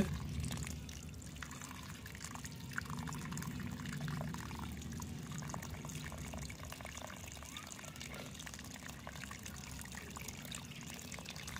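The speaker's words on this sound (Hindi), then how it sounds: "इसलिए हमेशा तने पे पानी दीजिए इस तरह से ताकि क्ले या रेड सोयल अच्छे से भीगती चले" Water poured at the base of a rose plant's stem in red clay soil, a steady continuous pour and splash running throughout at close range with no talk.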